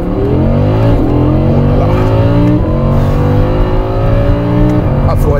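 An Audi R8 Spyder Performance accelerates hard with its top down, its engine note climbing steadily and loudly through repeated rising sweeps as it revs through the gears, heard from inside the car.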